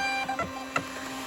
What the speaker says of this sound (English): Let's try to print.